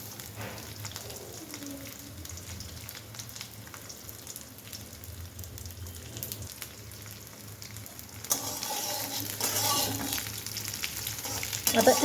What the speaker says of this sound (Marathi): ती वडी यामध्ये घालूया आणि अगदी कमीत कमी तेलामध्ये मस्त